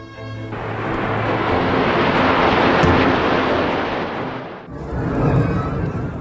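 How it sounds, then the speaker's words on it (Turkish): Saudi Arabian jet aircraft escorting the Chinese president's plane roar past overhead with a loud, swelling whoosh that peaks midway, fades, then rises again briefly. "Çin Devlet Başkanı'nın uçağına Suudi Arabistan uçakları eşlik etti"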